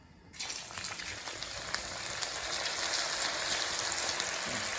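Sea bass starts frying in a pan with a sudden loud sizzle that settles into steady, crackling spatter, close and continuous.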